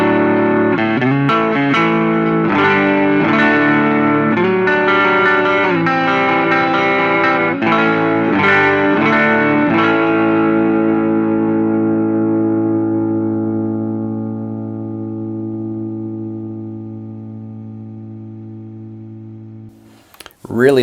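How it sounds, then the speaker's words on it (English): Schecter PT Special electric guitar played through a JHS Morning Glory overdrive for slight breakup: a run of picked notes and chords, then a final chord left to ring and slowly fade, with a brief noise at the very end. "Today we're plugged into the JHS Morning Glory just to give a little hair to the sound"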